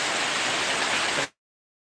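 A heavy downpour roars as a dense, steady wash of noise, loud and close, then drops out abruptly into silence before briefly returning.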